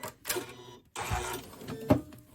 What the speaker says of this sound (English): I'll just do those few stitches so you can look